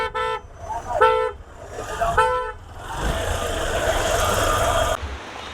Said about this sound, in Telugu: ఈ ట్రాఫిక్ నిజంగా బైక్ కాబట్టి ఇట్లా చిన్న చిన్న గ్యాప్స్లో వెళ్ళిపోతున్నాము